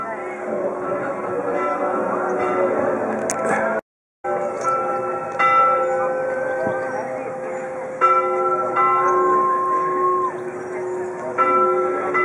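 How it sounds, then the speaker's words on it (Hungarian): Church tower bells ringing at three o'clock in Bled, a dense sustained clang of overlapping tones with new strikes every few seconds, loud and continuous with a brief gap. "Éppen harangoznak,"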